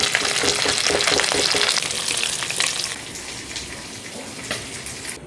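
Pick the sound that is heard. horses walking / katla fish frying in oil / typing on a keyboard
katla fish frying in oil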